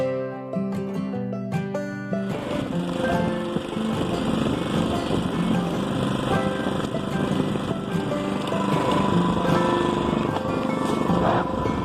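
The small engine of a motorized touring bicycle drones loud and close as the bike rides away from Bay St. Louis, with a steady buzzing whine that rises and holds for about ten seconds.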